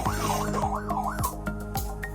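A children's electric toy bike, sold at a wholesale toy market, sounds its siren: a loud, continuous wailing tone that rises and falls steadily, punctuated by regular sharp clicks, with no voices.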